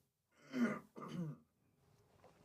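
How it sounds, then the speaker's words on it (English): A person clears their throat close by in two rough, gravelly bursts, followed by near silence. "I got to clear my throat here"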